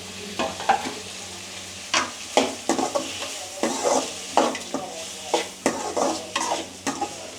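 Ingredients for a Tamil fish curry (meen kulambu) stirred and sautéed in a pan, with rock salt and turmeric added: a steady soft sizzle broken by repeated scraping spoon strokes in an irregular rhythm, close and alone.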